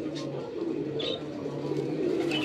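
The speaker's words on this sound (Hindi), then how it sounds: "बहुत ही ज़बरदस्त कबूतर है जी" An Amritsari pigeon, a male, coos in low, steady, rounded murmurs that hold throughout, with faint chirps from other birds and a soft background hum nearby.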